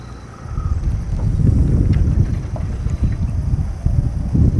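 Wind gusts outdoors on a fishing trip, buffeting the microphone with a loud, rumbling low-frequency roar that swells and eases over several seconds, no voices.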